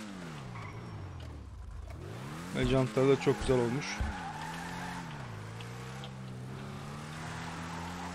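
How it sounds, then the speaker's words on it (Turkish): A car in GTA 5 Online skids and drifts, its engine revving and whining through shifting pitch while the tires squeal in a loud burst midway. Someone talks over the driving. "Zaten bu araba mükemmel kayıyor şu anda gördüğünüz gibi."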